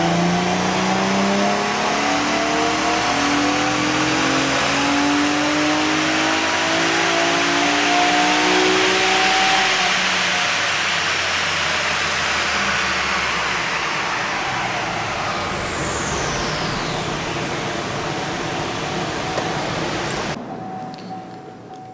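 A Holden LFX V6 with basic mods including Cat's headers and a full exhaust, revving hard on a dyno roller, its loud engine note climbing steadily through the gears for about twenty seconds before cutting off abruptly.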